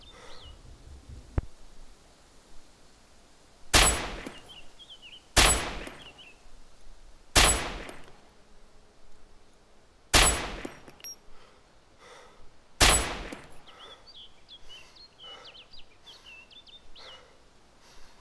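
Five sharp, loud rifle shots in the Arma 2 DayZ Overpoch mod, spaced a few seconds apart and each trailing off in a short echo, over quiet outdoor ambience with faint bird chirps.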